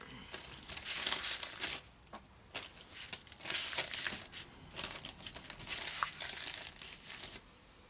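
Sheets of leftover paper are handled and crinkled at a craft work surface, a steady run of close, crisp rustling and crumpling bursts with brief pauses between.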